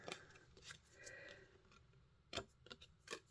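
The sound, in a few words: cutting paper with scissors for a card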